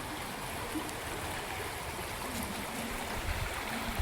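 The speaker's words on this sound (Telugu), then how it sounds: "ఒక గల్లీలో ఇన్ని నీళ్ళు పోతున్నాయి" Steady rushing of rainwater flowing down a street during heavy rain, a continuous broad wash with a faint gurgle, moderately loud and unbroken throughout.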